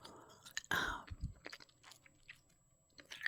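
A mint crunched and chewed close to the mic in a quiet room, with a sharp bite near the start followed by soft, intermittent mouth and chewing sounds.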